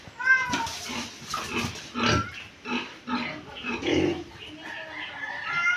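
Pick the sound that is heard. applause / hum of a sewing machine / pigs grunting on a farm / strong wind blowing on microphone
pigs grunting on a farm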